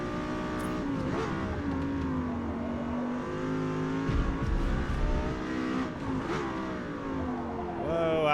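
Lexus LFA engine revving in the racing game Forza Motorsport, a loud continuous high-pitched V10 wail rising and falling through gear changes, steady throughout with no talk over it.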